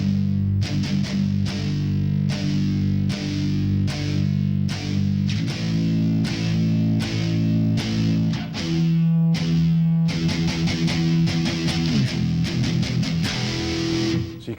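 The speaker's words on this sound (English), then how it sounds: "But with it muted with this part of your hand, it sounds like this." Heavy palm-muted electric guitar, distorted and chugging in tight rhythmic bursts with sharp attacks, loud and close, with sustained chords ringing through in places and no talking.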